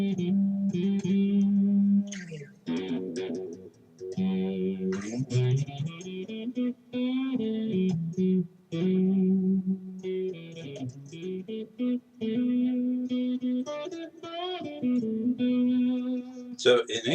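A customized Jackson Soloist electric guitar with its tone knob turned all the way down plays a distorted melodic line with a muffled, mellow tone, the bright highs rolled off, sustained notes and short breaks between phrases.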